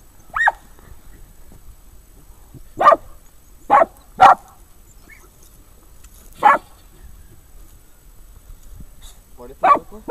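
A female dog gives several short separate barks spread irregularly over ten seconds, moderately near, with quiet gaps between them and no clear talk.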